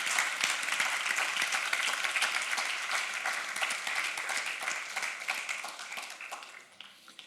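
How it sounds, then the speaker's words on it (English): A round of applause from a WordPress conference audience, dense steady clapping from many hands that holds for several seconds, then thins and fades out toward the end. "I would like to ask you for a really short round of applause for those guys"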